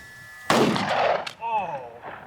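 A single loud, close High Point pistol gunshot fired outdoors, a sharp crack followed by a decaying boom and echo. A voice reacts briefly afterward.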